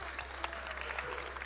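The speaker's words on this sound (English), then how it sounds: "Everyone, round of applause for Bogdan, please." An audience at a faith and AI live event gives Bogdan a brief, fairly faint round of applause over a low steady hum.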